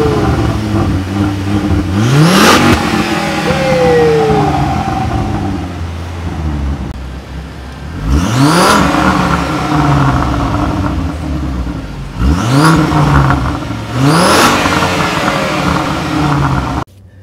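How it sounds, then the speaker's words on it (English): A Volvo C30 with a freshly installed muffler and exhaust is revved repeatedly, four sharp climbing revs from idle that fall back to a steady idle between them, loud and close with no talking. "Brandon, go ahead, rev it up."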